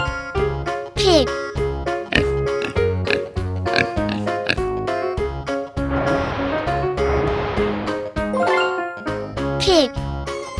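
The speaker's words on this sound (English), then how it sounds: "Pig." A pig oinks in a children's farm-animal sound sequence, set over bouncy, jingling music with a voice speaking in between.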